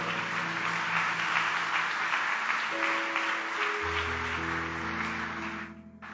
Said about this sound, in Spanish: No sé para qué quieran aplaudir al Señor en esta noche